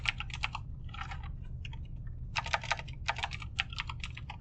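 Code typed on a computer keyboard, close clusters of quick key clicks in irregular bursts with short pauses, over a faint low hum.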